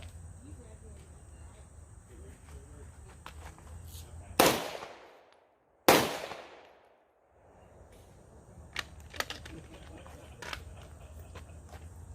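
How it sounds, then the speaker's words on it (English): Two loud, sharp gunshots fired from the support side of a shooting barricade, about a second and a half apart, each followed by a decaying echo, over quiet outdoor background with insect chirping. "take two shots from the support side of the barricade"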